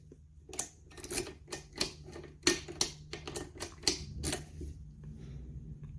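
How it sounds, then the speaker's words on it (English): A computerized key cutting machine, fitted with a custom card for Ducati double-sided keys, cuts a key for a Ducati 821. Irregular sharp clicks and ticks ride over a steady low mechanical hum, with no talking. "I have this particular card that's in this machine now, customized just for Ducati double-sided type keys."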